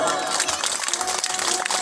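An audience at a devotional gathering claps in a dense, fairly close burst of hand claps mixed with general crowd noise.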